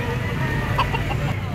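Stag roosters at a chicken auction market in Lipa, Batangas give brief clucks over a constant crowded market hubbub.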